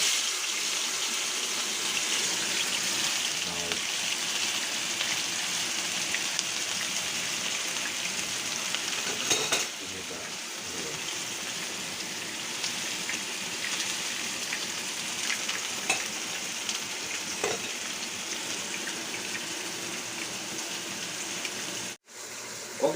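A chapli kabab patty with tomato pressed into it frying in a pan, giving a steady, close crackling sizzle like light rain that runs on evenly with a brief break near the end.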